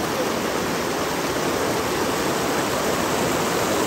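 Dudhsagar waterfall in Goa roars as a dense, steady rush of powerful falling water, loud and continuous with no voices.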